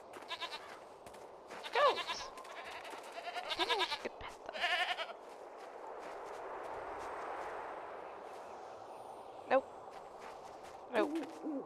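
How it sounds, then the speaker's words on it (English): Goats in the video game Jade Empire bleat in several short, separate calls, with a few wavering bleats early on and two more near the end over a steady ambient game background. "Goats! I think I could pet them."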